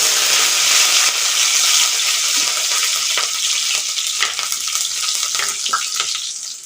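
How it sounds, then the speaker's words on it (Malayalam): Fenugreek, mustard seeds and curry leaves sizzle and crackle loudly in hot oil in a pan as a fish curry is started, a close, dense frying hiss with small pops throughout. "എണ്ണ ചൂടായി വന്നിട്ടുണ്ട് നമുക്ക് ഉലുവ ഇട്ട് കൊടുക്കാം കടുക് കറിവേപ്പില"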